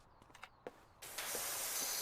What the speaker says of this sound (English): Or was it already clean and I'm just spraying it?